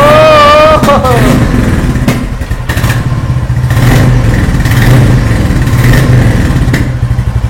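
A motorcycle engine at close range revs hard and loud, then holds a steady, throaty roar with repeated throttle blips. It is heard at a showroom or street setting where the bikes include a KTM 250 Duke, Yamaha R15M, RS 200, MT 15 V2 and Royal Enfield Shotgun 650.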